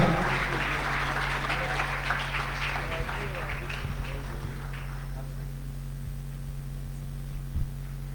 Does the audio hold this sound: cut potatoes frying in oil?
no